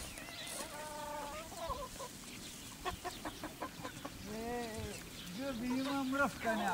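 Geese on a farm let out a series of nasal, harmonic honks, some short and some drawn out, at moderate distance, mixed with scattered clucking farmyard sounds and people talking nearby.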